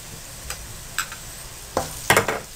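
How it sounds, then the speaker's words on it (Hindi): Soft sizzling of garlic-ginger paste frying in a pan with a few scrapes and clinks of a spoon stirring, close and fairly quiet, no talking. "अब इसमें 1 खाने के चम्मच बराबर मैं लहसुन अदरक का पेस्ट डाल रही हूँ।"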